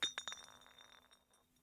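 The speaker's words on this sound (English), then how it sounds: "something fell out of his pocket with a soft clink" In the video game Zero Escape: Virtue's Last Reward, a small object falls from a pocket with a soft glassy clink. Two or three quick bright taps sound close, then ring away into quiet.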